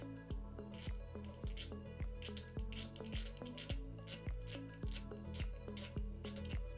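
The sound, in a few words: scraping plastic down on a Takom T-54B 1/35 scale model part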